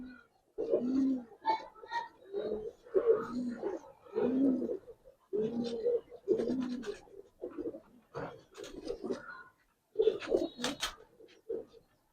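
Pigeons, giribaz and coloring breeds, coo in repeated low throaty phrases close by, with short pauses between calls and some scratching in between.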